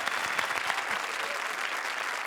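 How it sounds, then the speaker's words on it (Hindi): Studio audience on a Hindi TV comedy show, Comedy Circus 2, breaking into loud, dense applause that stays steady and sustained throughout, with no talk over it. "थैंक यू, जोरदार तालियां"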